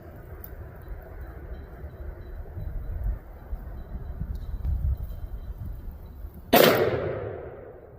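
A single sharp, loud gunshot from a .460 S&W revolver fitted with a cheap red dot sight cracks out near the end at a shooting range. It breaks a stretch of low, quiet background noise and rings out briefly afterward.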